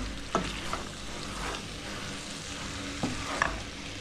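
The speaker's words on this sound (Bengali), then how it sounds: "এখন এটাকে কষাবো, কষানোর পরে এর সঙ্গে আরও কিছু জিনিস দেবো।" Lamb heart sautéing in a pan for curry, with a steady sizzle and a few scraping stirs of a spoon against the pan, close up and without talking.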